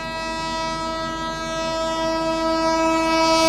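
Islampur–New Delhi Magadh Express 20801 overtakes from behind, sounding a long, steady, loud horn that holds a continuous chord from start to finish, with no voices.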